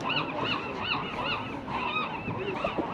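Geese at Capitola beach honk repeatedly in a busy flock, overlapping nasal calls close by over surf and wind noise.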